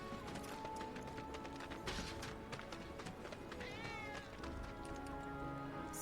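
A cat in the Final Fantasy 7 Remake video game meows amid dense game ambience, with soft footsteps or clopping and busy background sounds, a brief rising-and-falling call standing out in the middle.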